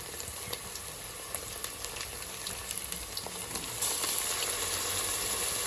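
Onion, tomato and green chillies frying in hot oil for biryani, giving a steady close sizzle with small crackles that swells louder toward the end.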